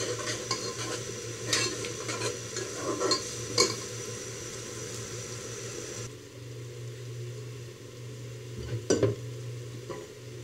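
Masala sizzles in a pan while a spoon stirs and scrapes through it in uneven bursts, the frying quieting midway before a few more clattering stirs near the end.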